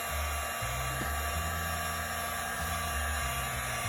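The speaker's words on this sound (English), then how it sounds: "now what we're doing is we're heating up the fender liner, try to get it to squish back a little bit" Heat gun blowing hot air onto the plastic front fender liner of a 2011 Subaru Outback, a steady close whooshing fan roar with a low motor hum that shifts slightly in pitch.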